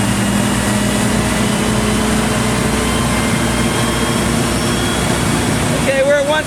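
A fire truck's pump engine runs steadily at high throttle to hold 160 psi, a dense continuous droning hum with a faint whine rising near the end.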